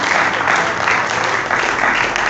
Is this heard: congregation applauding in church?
yes